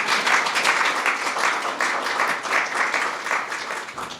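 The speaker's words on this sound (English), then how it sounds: "You can applaud that if you want." An audience claps at a 2017 swearing-in ceremony for the head of the Centers for Medicare and Medicaid Services, with moderate, steady applause that continues evenly for a few seconds without talk over it.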